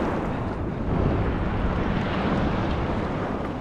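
Ocean surf breaking on Miami Beach makes a steady, broad roar of rushing water with wind buffeting the microphone, swelling slightly after the first second and holding at a constant level.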